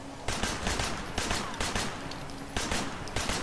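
Repeated gunfire bursts from a shooter in Sleeping Dogs, fairly loud and steady across the stretch, with sharp shots recurring every half second or so over a constant background din.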